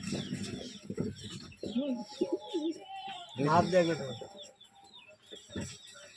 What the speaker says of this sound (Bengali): এগুলো হলো অরিজিনাল ম্যাড্রাস পায়রা